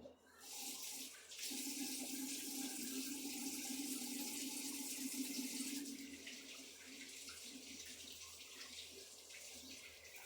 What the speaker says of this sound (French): La première chose qu'on fait, c'est qu'on se lave les mains en cuisine.